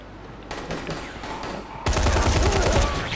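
Enemy gunfire in the video game Dying Light The Following, dense overlapping shots that grow louder and heavier midway, continuing as a steady barrage with no talking.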